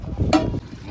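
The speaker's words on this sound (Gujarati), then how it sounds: "ફૂલ પવન આવે છે એટલે પકડીને રાખવું પડે બધું." Strong wind gusting outdoors in Jammu and Kashmir during an open-air meal, a steady rushing buffet against the microphone with a brief louder burst partway through.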